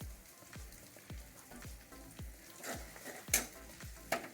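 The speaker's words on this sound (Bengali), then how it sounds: "এখন দিয়ে দেবো কাঁচা লঙ্কা," Ginger-garlic paste fries in a pan for a paya and mutton chicken curry as green chillies go in, giving a soft, faint sizzle under rhythmic scraping strokes of a spoon, with a few sharper clinks near the end.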